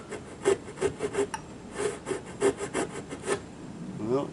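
Hand saw rasping back and forth through wood while cutting dovetails, a run of short rhythmic strokes that falter and stop, close and fairly loud with no voices over it.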